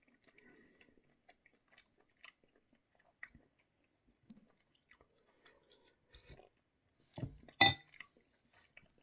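Someone eats canned Juanita's Hot & Spicy Menudo, with quiet, close chewing, a few spoon clinks against the can or bowl, and one louder clatter near the end.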